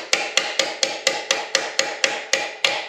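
Hammer blows drive a pin out of the foot peg mount on a Suzuki DRZ400S motorcycle, about eleven sharp metallic strikes in a steady, even rhythm, close and loud with no talking.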